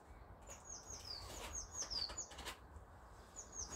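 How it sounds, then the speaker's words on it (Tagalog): A flock of birds flutters past outdoors in a garden after rain, with brief flapping wingbeats and repeated high, thin chirps in short bursts, fairly faint and without any talk. "Aba, daming ibon."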